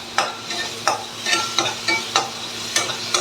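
Masala with tomatoes stirred in a frying pan for a Tamil dried-anchovy and lima-bean gravy: a steady close sizzle with regular scraping stir strokes roughly every half second, no talk.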